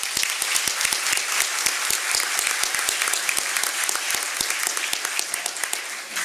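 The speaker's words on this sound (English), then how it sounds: "Everybody, please give these people a round of applause." Sustained audience applause at a city State of the City address, dense overlapping claps from a large crowd filling the room steadily from start to end with no break.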